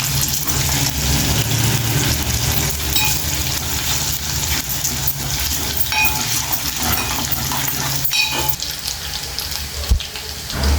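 Ginger paste fries in hot oil with a steady, close crackling sizzle and occasional stirring scrapes, lasting throughout without any talking.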